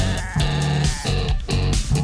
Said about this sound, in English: Wounded goat. Is that what I'm hearing?